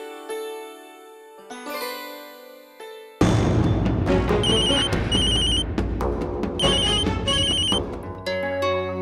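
A telephone ringing on an outgoing call, heard as a repeated electronic ringtone pattern over a loud layered music score, with no talk.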